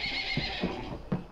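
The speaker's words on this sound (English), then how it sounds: "Horse owners like Terry Barber, she has two rescued miniature horses here today" Rescued miniature horses neigh nearby, a few short whinnies and snorts with a faint hoof clop, fairly quiet and without talk.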